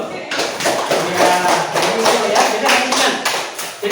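A classroom of students claps hands together, a dense, fast burst of overlapping claps that carries on steadily for several seconds close by, with faint voices underneath.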